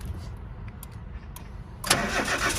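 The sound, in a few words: car engine started with installed push start button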